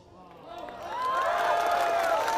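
An audience at a large outdoor religious gathering bursts into applause and cheering, swelling from a murmur into a sustained, loud wash of clapping with voices mixed in.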